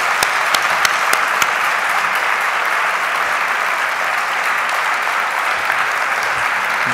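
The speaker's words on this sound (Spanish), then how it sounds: "yo creo que un fuerte aplauso, ¿no?" Steady, dense applause from a crowd, continuous throughout with a few sharper claps standing out near the start.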